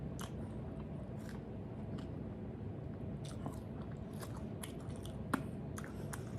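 Someone chews Boshan sausage, a Chinese pork sausage, close to the mic: quiet, repeated wet bites and crunches at an uneven rhythm over a soft room hiss, with no talking.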